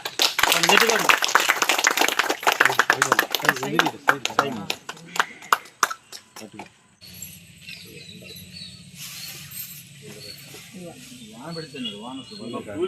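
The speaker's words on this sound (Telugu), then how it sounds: "క్లాప్స్ కొట్టాలా?" An audience at a union meeting in Chilakaluripet, Palnadu district, claps in a burst of sharp, irregular claps during the first half, then the clapping fades out while voices talk.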